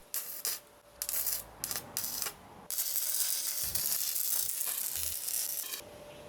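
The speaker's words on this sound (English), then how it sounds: "it was finally time to start welding" Electric welding machine crackling and hissing against metal, starting in short bursts, then settling into a sustained, loud, steady buzz for several seconds before stopping.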